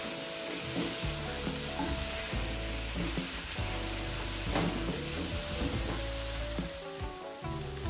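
Banana pieces and shrimp frying in a hot pan, a steady loud sizzle with occasional crackles and stirring scrapes throughout.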